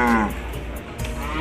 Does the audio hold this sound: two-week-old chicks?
no